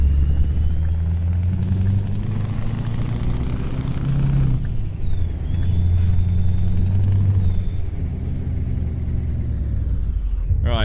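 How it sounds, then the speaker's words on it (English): A Mack Titan Superliner truck in Euro Truck Simulator 2 runs its Jake brake, a loud continuous engine rumble with a steady rising and falling whine that ends in a short hiss near the close. "So that was the Jake brake there"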